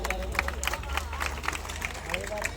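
Audience clapping at a live Gujarati dance and music show, a steady patter of hands under crowd murmur and a thumping low beat.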